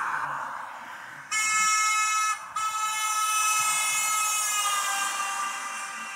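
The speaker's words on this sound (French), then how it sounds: "je vais carrément klaxonner parce que j'ai un instrument dans la voiture" Car horn honks loudly in a long sustained blast with a brief break, steady and close, the tone holding for several seconds before trailing off.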